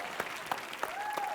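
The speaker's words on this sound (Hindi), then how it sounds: "जोरदार तालियां दोनों के लिए" Studio audience applause at a televised entertainment show, a short, moderate patter of claps with a few distinct hand strikes and light crowd noise.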